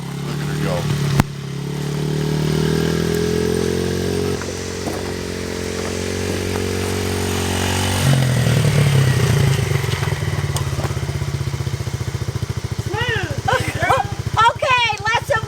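A beginner rider's motorcycle, ridden in gear during her first lesson, with the engine droning and revving up as she throttles away, close and fairly loud, and voices talking over it near the end.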